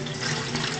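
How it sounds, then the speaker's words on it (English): Water pours off thawed, formerly frozen banku dough, a brief continuous splashing gush heard close up and alone. "So I'm now going to try and get rid of the top layer of water. Just pouring that away."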